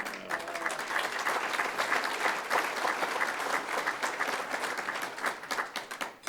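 A City Club audience applauds steadily for several seconds, a dense sustained wash of many hands clapping at moderate distance that tapers slightly at the end.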